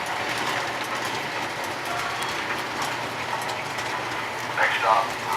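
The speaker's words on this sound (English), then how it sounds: "Right now the subway's passing through a diner." A model railroad subway train runs along its track with a steady, soft rolling rumble and light clicking, heard close and continuous, with a voice speaking over it.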